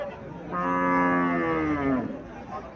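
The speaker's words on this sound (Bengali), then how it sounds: "এখানে একটা সাইওয়াল জাতের গাভী দেখা যাইতেছে।" A Sahiwal cow on a farm in Comilla, Bangladesh lets out a single loud, close moo lasting about a second and a half, with quiet surroundings before and after.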